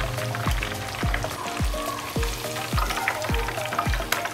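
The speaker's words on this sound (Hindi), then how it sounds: "सिर्फ हम कलर देने के लिए इसको फ्राई करना है" Lahori chicken chargha pieces fry on medium heat to a light brown, giving a steady close sizzle broken by repeated low thumping knocks about every half second, with no voices.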